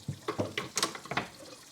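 Water from a kitchen tap runs and splashes over bowls, rinsing off suds of Dawn Platinum Plus Powerwash lemon dish spray, with an uneven, close, spattering rhythm as the dishes move under the stream.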